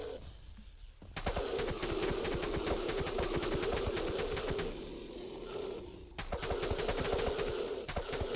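Bursts of automatic gunfire from a zombie-survival game, DeceasedCraft, rattle in rapid sustained volleys with a brief pause midway before firing resumes, loud and close with no talking.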